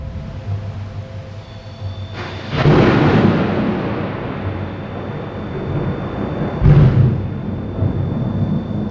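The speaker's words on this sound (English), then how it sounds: "lightning strikes just feet away from the tent" A lightning strike lands just feet from a tent, and a loud, sudden thunder crack breaks into a long rumble over steady rain, with a second sharp burst a few seconds later.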